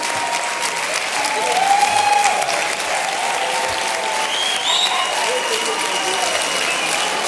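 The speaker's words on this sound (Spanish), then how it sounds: "No aplaudáis mucho tampoco" A studio audience at a comedy show applauds in a sustained, full wash of clapping and cheering, loud and close, with a voice speaking over it.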